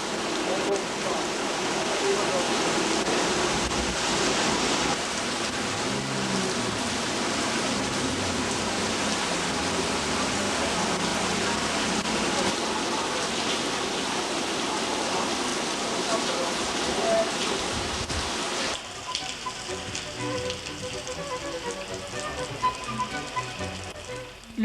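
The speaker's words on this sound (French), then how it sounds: "La pluie de mousson va durer 4 heures et l'eau atteindra les genoux lorsque nous regagnons notre hôtel." Heavy monsoon rain falls on Koh Poah Island, Cambodia, a dense, steady roar of downpour that runs without a break and changes tone near the end.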